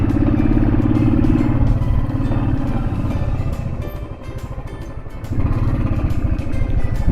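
A motorcycle heavily loaded with luggage labors up a steep, narrow mountain road, its engine droning loud and close with rattling clatter, easing briefly midway before pulling hard again.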